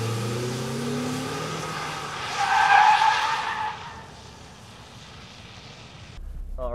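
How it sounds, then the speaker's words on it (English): An automatic car skidding while drifting in reverse at about 30 mph, engine droning as a tire squeal swells in the middle and fades, followed by a steady rolling drone, no talk. "we're in reverse, getting up to about 30 miles an hour. We steer one way a little bit and flick it back the other way and smash it into drive."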